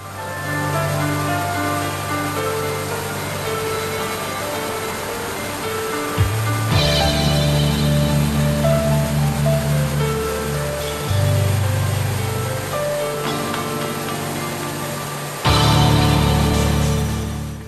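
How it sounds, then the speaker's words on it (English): An underground cave stream in Ogof Ffynnon Ddu flows in a continuous, loud broadband rush with a steady low rumble, shifting slightly in tone as the recording moves along the streamway, with no voices. "The stream is followed upstream to the first river chamber."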